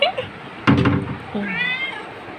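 A door is pulled open for a pet cat indoors, giving a single dull knock and rattle midway while people talk over it.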